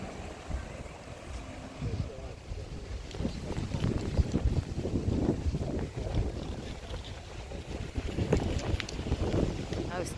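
Wind gusts buffet the microphone in uneven low rumbling bursts, with a faint outdoor wash behind them, in Side, Turkey, in October.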